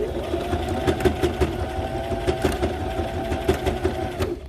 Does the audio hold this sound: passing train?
no